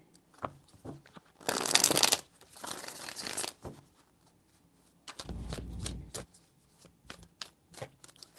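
Tarot cards are shuffled in two short riffling bursts, close and fairly quiet, separated by soft handling rustles.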